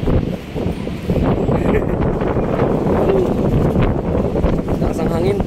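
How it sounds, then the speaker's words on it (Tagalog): Strong wind roars across the microphone in a loud, continuous rumbling buffet, gusting unevenly throughout with a faint voice or two beneath. "Lakas ang hangin."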